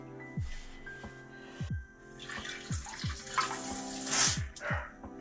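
Water hisses and sprays under strong pressure in bursts from a newly installed bidet, with a low thumping rhythm underneath, swelling louder toward the end before easing off.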